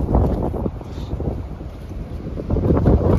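Wind buffets the microphone on a golf course during a round. A steady roar of gusts rumbles throughout and swells louder toward the end, with no talk.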